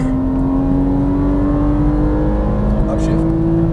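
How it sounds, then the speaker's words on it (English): A Porsche Cayman S engine pulls hard under full throttle on a track, a loud steady drone holding a rising pitch across the whole stretch, with a voice talking over it. "Squeeze into the throttle all the way down."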